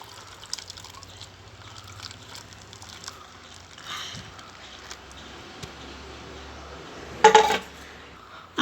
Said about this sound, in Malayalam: ഇതിലോട്ട് നമുക്ക് ജ്യൂസ് നല്ല രീതിയിലൊന്ന് ഒഴിച്ചു കൊടുക്കാം